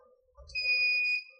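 A Polytron ZeroMatic top-load washing machine with a replaced controller mainboard gives a single clear electronic beep on power-up, a steady two-tone chime held about half a second over a faint low hum.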